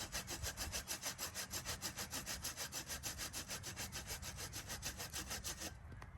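A knife is drawn in quick, repeated strokes across a wooden stick outdoors, carving an angled point. The rhythmic scraping is faint, with about two strokes per second, and no one speaks.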